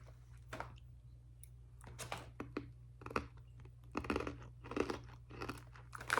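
Biting into an airy sour Japanese snack, followed by a run of crisp crunches and chewing, close to the mic and fairly quiet, with no talk.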